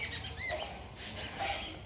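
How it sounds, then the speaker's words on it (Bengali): Birds chirp outdoors in the daytime, a few faint, brief high tweets scattered over a low background hiss. "পাখি কিচিরমিচির করছে।"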